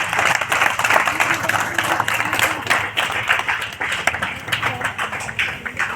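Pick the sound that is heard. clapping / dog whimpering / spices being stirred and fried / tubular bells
clapping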